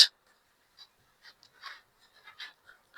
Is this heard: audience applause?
no